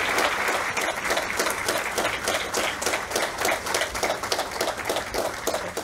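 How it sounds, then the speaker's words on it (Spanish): A church congregation in Tampa claps in a lively welcome, with dense, rhythmic applause from many hands pulsing steadily throughout, close and continuous. "yo los invito a que la recibamos con un fuerte aplauso"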